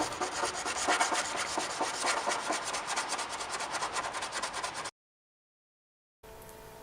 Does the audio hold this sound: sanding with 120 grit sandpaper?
yes